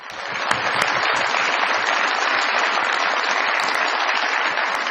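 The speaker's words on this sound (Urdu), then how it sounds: "بہت ساری تالیاں جی" Dense, steady applause from a studio audience at a Pakistani comedy talk show, building quickly in the first half second and then holding loud and sustained with no voices over it.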